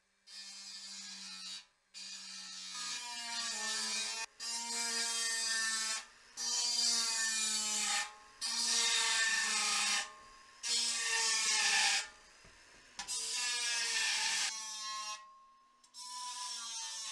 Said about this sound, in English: Get the grinder out and grind a hole right there so we can stick the burner in.